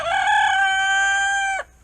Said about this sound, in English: We got a rooster and two pullets right here that we put in this coop.